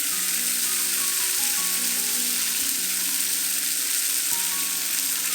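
Tofu fries in a shallow layer of oil in a pan, giving a steady, close sizzle with fine crackling that holds evenly throughout, with no talk.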